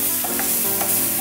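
Eggplant and other vegetables for ratatouille fry in oil in a pan, giving a close, steady sizzle with soft stirring noises and no talking.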